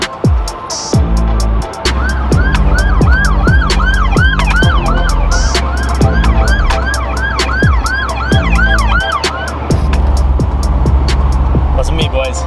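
Police car siren wailing in a steady repeating yelp close by on a road drive, heard alongside a boosted K20 Honda Civic engine rumble, with intermittent clicks and people talking.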